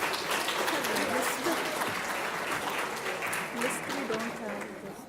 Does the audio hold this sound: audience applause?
yes